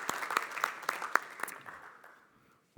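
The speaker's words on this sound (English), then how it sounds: "big applause for Edward." An audience applauds at a live software demo talk. Sparse, fairly faint hand claps patter for a couple of seconds and then die away.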